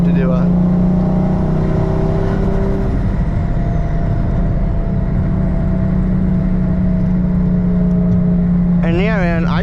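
A 600-horsepower Lexus IS300 cruising in fifth gear, a steady loud low engine drone inside the cabin with constant road roar, and a voice briefly talking near the end.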